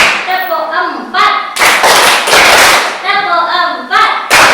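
A class of children clapping out counted patterns, bursts of loud group claps alternating with a voice calling out numbers, the claps and speech taking turns in quick rhythm.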